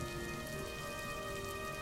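Steady rain falling on a surface at night, a constant dense patter with no pauses.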